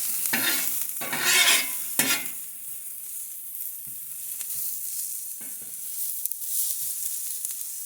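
Garlic sizzles in a pan of ribeye drippings, opening with a few loud bursts of stirring and scraping before settling into a steady, close hiss with occasional light clicks.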